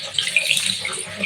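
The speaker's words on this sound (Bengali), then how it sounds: "এখন আমি পানি দিয়ে দিব" Water poured into a pressure cooker on a kitchen stove, giving a steady, close rushing splash that runs unbroken for just over a second with no talking.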